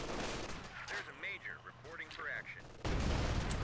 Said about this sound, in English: I'm actually curious how much that explosion will do.